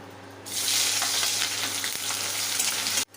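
Onions dropped into hot oil with cinnamon, cardamom, dried chilli and bay leaf, bursting into a loud hissing sizzle that holds steady for a few seconds before cutting off abruptly.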